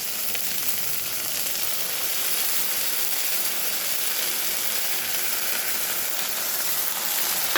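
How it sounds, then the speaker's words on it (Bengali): Onion with ginger-garlic paste frying in a pan, a continuous even sizzle with a faint steamy hiss throughout, no talk. "আদা রসুন বাটাটা দিয়ে আমি এটাকে একটু ভেজে নেব।"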